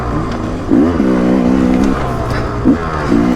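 A 2024 Rieju MR 300 Pro dirt bike revs hard while climbing a hill, engine note rising and falling in loud close bursts with a sustained pull in the middle, no talking over it.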